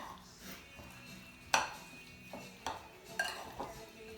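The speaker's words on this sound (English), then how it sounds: "we're gonna give it a good mix together" Seasoning and cooked onions stirred together in a pan for a German family recipe: scraping, clinking utensil strikes against metal, with a few sharp knocks spaced out over soft background noise.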